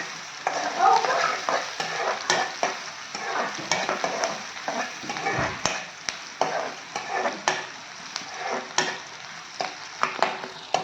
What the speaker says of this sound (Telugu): ఇవన్నీ మంచి బ్రౌనిష్గా వచ్చే వరకు వేయించుకోవాలి